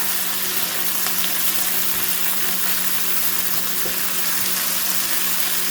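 Vegetables and smokies left to fry and crisp in a pan, a dense unbroken sizzle, loud and close, steady throughout with no stirring or voices.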